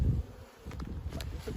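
Honey bees buzz at a hive, a soft drone of several insects close by, with a brief dip and then passing buzzes drifting near and away.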